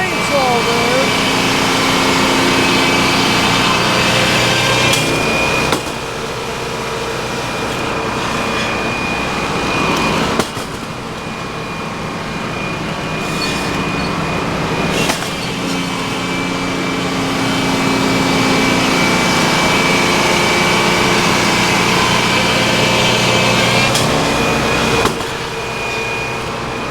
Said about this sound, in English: Got a little deep on the chainsaw there.